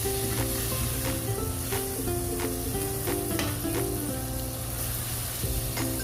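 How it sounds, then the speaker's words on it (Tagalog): Mushrooms frying with garlic and onion in a pan are stirred, producing a steady loud sizzle with soft scraping strokes and small clicks from the utensil throughout, close up and without speech. "At ihalo po natin para po maka-absorb ng mushroom yung fragrance ng bawang at saka sibuyas"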